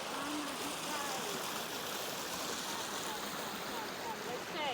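River water flowing in Johannesburg Botanical Gardens near a waterfall, a dense continuous rushing wash with faint background voices and birdlike chirps over it.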